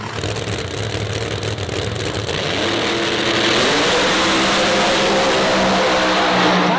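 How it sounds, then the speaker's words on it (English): Drag race at Virginia Motorsports Park between a Firebird and a Pro-Charged Mustang, a loud sustained roar of racing engines that rises in pitch and swells midway as the cars accelerate down the strip. "Great drag race between both of them, but Robin Roberts will get there first"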